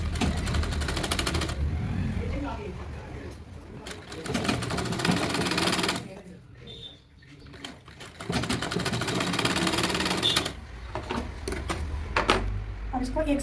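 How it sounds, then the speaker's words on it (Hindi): A sewing machine stitches the finishing seam on a katori-cut blouse lining, whirring steadily in long runs with a couple of short pauses, close and fairly loud. "धीरे धीरे इसकी फिनिशिंग की सिलाई लगाएंगे"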